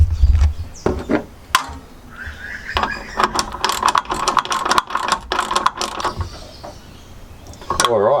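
Ratchet clicks from tightening roof rack bolts on a Jeep Wrangler, short bursts of rapid pawl clicking repeated through the clip with metallic handling sounds in between, close and fairly loud.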